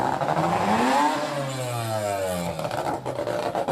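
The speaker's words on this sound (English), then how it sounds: "it's good to hear some revving out there" Stock car engines rev at a Border Stockcars meeting, with rising and falling harmonic whines and a steady roar of several cars running continuously throughout.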